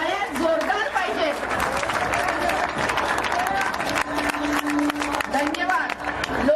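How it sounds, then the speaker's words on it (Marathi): Sustained applause and crowd chatter fill a large gathering at a Beti Bachao PCPNDT workshop with a mass wedding ceremony, steady and dense throughout, with voices mixed in. "टाळ्या जोरदार पाहिजे"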